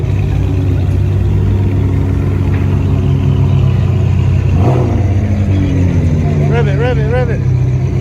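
At a busy car meet, a car engine rumbles and revs loudly up close amid crowd noise and people talking nearby.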